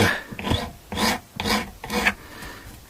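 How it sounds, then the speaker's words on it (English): A metal file rasps along the fret ends of an Electra guitar during a refret, deburring the corners. Four steady back-and-forth strokes sound up close, with no voices. "back down the sides of each of these fret ends with this same tool and just make sure that there's no burrs sticking out the corners"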